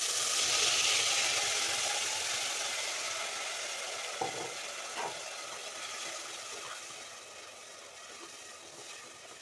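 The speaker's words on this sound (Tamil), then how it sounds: "நாலு தக்காளி எடுத்து அடித்து வச்சுக்கிறேன்" Mixer grinder blending four tomatoes to a coarse paste for tomato rice, a steady loud whirring drone that holds throughout and slowly eases off, with a couple of faint clicks near the middle and no talking.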